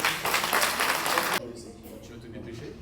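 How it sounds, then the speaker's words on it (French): A crowd at a French hunters' championship event breaks into brief, loud clapping that cuts off sharply after little more than a second, leaving quieter room noise and faint voices behind. "Donc on peut les applaudir."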